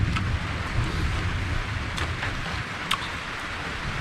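Rain falls steadily outdoors at a Thai home, making a constant soft hiss with a few faint drips and taps against some rumbling background noise.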